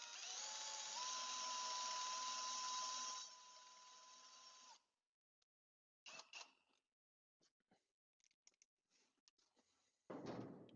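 Cordless drill driving a DW2/DW3 drill-winch, giving a steady high whine for about five seconds that then stops. After that come scattered clicks and handling knocks, and a brief burst at the end.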